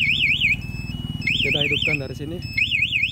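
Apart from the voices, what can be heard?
Yamaha NMax motorcycle alarm module MP 2 Way chirping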